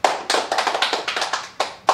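People clap together in a quick run of sharp, close claps during a Yoruba language class, with short gaps between bursts and a final clap at the end.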